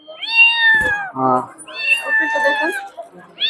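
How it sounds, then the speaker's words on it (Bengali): Persian mix kittens, about two and a half months old, meow close by, a few high, drawn-out cries in quick succession, with a short burst of talking between them. "নেকজেট বিড়ালগুলো আপনারা দেখতে পাচ্ছেন অনেক সুন্দর নেকজেট বিড়াল"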